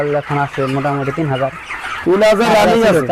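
Chickens on a poultry farm of about three thousand birds cluck and squawk in a rapid, busy series, close and fairly loud, with a noisier burst of fowl calls toward the end.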